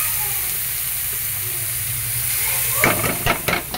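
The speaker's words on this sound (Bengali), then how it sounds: "তেলটা গরম হয়ে গেছে, এর মধ্যে আমি এবার একটা শুকনো লঙ্কা আর সর্ষে অল্প পরিমাণ দিয়ে দেবো" Dried chili and mustard seeds in hot oil give a steady, loud hiss, then sharp crackles and pops near the end as the seeds start spluttering.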